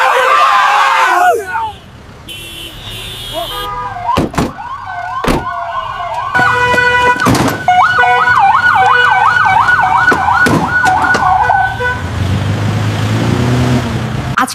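Ambulance siren wailing in a busy street outside a garment factory, its rising and falling tone fairly close and loud, mixed with traffic and passing vehicles, while voices talk around it.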